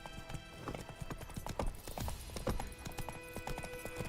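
Horse hooves clip-clop in a quick, steady galloping rhythm in The Witcher 3 video game, close and clear, with a brief whinny and no talk.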